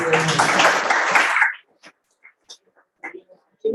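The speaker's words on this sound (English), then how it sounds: "Can you give a big round of applause?" Audience applause from a monthly meeting after a presentation, a dense burst of clapping for about a second and a half before it cuts off, followed by faint scattered sounds and brief talk.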